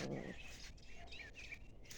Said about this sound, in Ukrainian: Пташки співають гарно.